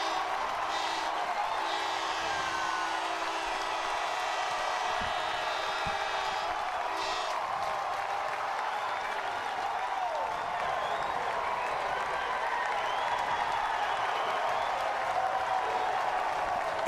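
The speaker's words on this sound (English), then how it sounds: "Their home crowd getting into this one." The Southern Miss home crowd at a college baseball game against Virginia keeps up a steady roar of cheering and applause after a 3-run home run, with whoops rising from a dense, continuous wall of crowd noise.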